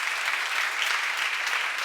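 Seminar audience clapping together in a steady, dense burst of applause that fills the whole moment, fairly close and even in loudness, with no talking over it.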